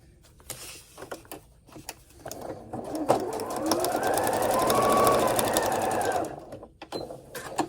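A sewing machine stitches quilt pieces with pins moved along the seam, a steady close whirring run in the middle with short stops and starts around it and some faint talk.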